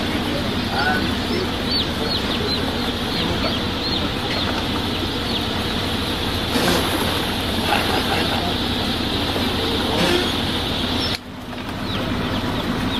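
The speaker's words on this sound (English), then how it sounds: "200 chickens in the rental car" Chickens cluck and fuss continuously up close inside a rental car, with a low engine-like drone underneath and a brief dip near the end.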